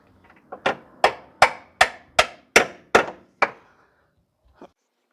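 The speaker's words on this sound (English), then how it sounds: "Just gonna use a hammer to drive it through." Nine sharp metallic hammer strikes driving a bolt through a lower control arm on a 2009 Pontiac Vibe 2.4, in a steady rhythm, close and loud, followed by a pause and one faint final tap.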